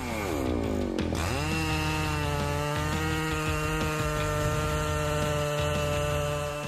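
Husqvarna 3120XP chainsaw cutting through a large piece of wood at a sawmill, its engine a loud, steady, close whine that dips briefly as the chain bites, then holds a strong sustained drone throughout.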